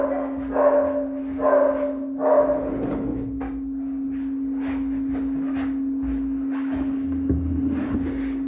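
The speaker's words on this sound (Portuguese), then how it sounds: "vocês estão ouvindo aí o latido do cachorro, gente?" A dog barking next door, several distinct barks in a quick burst early on, heard from a distance indoors over a steady electrical hum, then fading into a low murmur.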